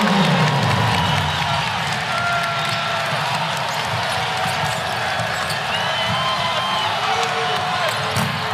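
A basketball arena crowd during a Duke versus Louisville college game keeps up a steady, loud roar of cheering with scattered whoops, while an announcer talks over it and ball bounces and sneaker squeaks come through.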